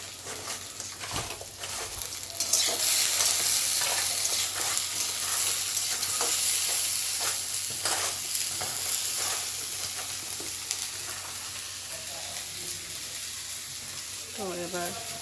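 Eggplant slices coated with salt, sugar and turmeric sizzle in hot oil, a steady crackling fry that swells early and then settles, with occasional stirring clatter.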